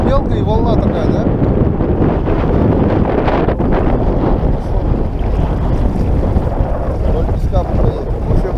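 A loaded motorboat pounds across waves on the Pechora river, its engine drone buried in heavy wind buffeting against the microphone and splashing water, continuous and loud throughout.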